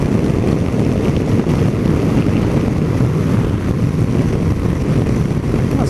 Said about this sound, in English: The wind's hitting me at the top of my chest, but it seems it's better than the wind hitting me in the head.